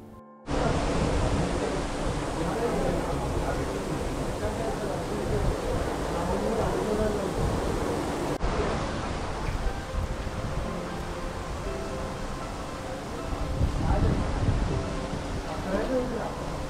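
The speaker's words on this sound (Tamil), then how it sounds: "இப்போ பயங்கரமாக மழை பெய்யுது, பயங்கரமான காற்று வேறு" Dense, steady roar of heavy rain and gusting wind aboard a ferry near Mumbai, loud and continuous throughout with no voices, briefly dipping midway before swelling again.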